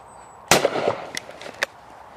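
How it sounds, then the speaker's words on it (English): One loud shot from an inexpensive 16 gauge shotgun at clay targets outdoors, a sharp crack with a brief echo, followed by a couple of faint clicks. "So that's me shooting my inexpensive 16 gauge."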